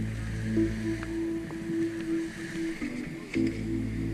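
The dive boat Narcos motoring across the sea off the Riou archipelago near Marseille, a steady low engine drone with a humming tone and water sloshing, close and constant with no talk.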